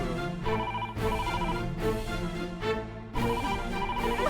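A telephone ringing in a Hindi-dubbed Malayalam comedy film scene, with repeated electronic ring bursts in a steady on-off pattern, loud and alone with no talking.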